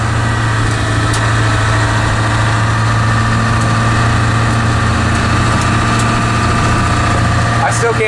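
A 1976 Ford F600 truck fitted with a swapped 7.3 Powerstroke diesel engine runs steadily, a loud, close, continuous low drone and rumble throughout.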